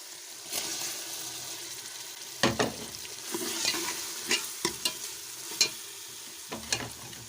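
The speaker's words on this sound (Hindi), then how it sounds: "अब मैं इसमें डालूंगी दाल।" Lentils stirred into sizzling masala in a pan, a soft steady fry with several sharp scraping spoon strokes at irregular intervals, close and fairly quiet.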